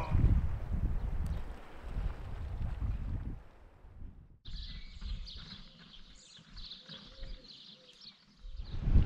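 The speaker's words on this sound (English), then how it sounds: "it's so windy here and my hat flew off into the sea" Strong coastal wind buffets the microphone on the shore at Easdale, Scotland, gusting roughly and unevenly in low rumbling bursts, easing midway as a brighter hiss of water or distant motor noise takes over before another gust.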